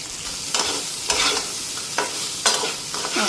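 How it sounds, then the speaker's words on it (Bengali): Onions stir-frying with salt and turmeric, a steady close sizzle broken by four scraping stirs of the spatula, with no talk. "পেঁয়াজটা হালকা ফ্রাই হয়ে গেছে"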